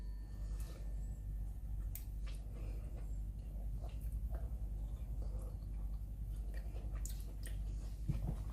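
A stuffed tomato is chewed close to the microphone, with soft wet squishes and small bites over a low steady hum, and no talking.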